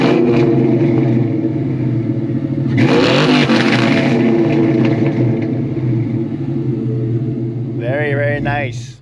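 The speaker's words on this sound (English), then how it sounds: "Okay, do some revs." A cammed 1999 Ford Mustang GT V8 revs hard through its exhaust, a deep loping rumble swelling into loud repeated rev bursts and settling back, with voices talking over it near the end.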